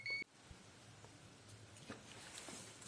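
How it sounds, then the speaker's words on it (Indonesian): A multimeter in continuity buzzer mode gives one short, sharp beep at the start, followed by quiet handling noise. "Buzzer itu kalau kabelnya terhubung nggak putus berarti bunyi ya."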